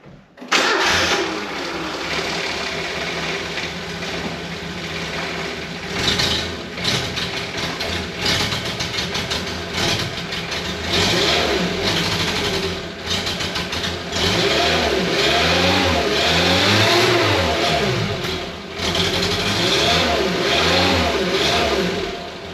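A loud engine revs repeatedly, rising and falling in pitch with throaty exhaust roar, running continuously without any talking.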